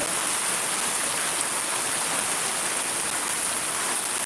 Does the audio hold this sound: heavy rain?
yes